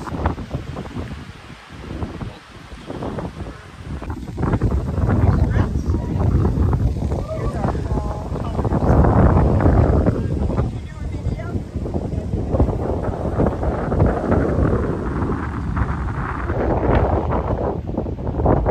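Cold wind gusting across an exposed overlook on Lake Superior's North Shore, a loud, steady broadband roar with buffeting on the microphone that persists through the whole stretch.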